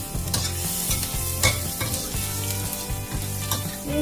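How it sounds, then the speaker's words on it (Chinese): Garlic frying in hot chicken oil, a dense continuous sizzle and crackle up close, with a few stirring scrapes breaking through. "我们就准备先来下蒜头， 给它爆香一下"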